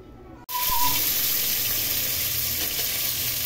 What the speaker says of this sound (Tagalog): Ayan na, ipiprito na yan,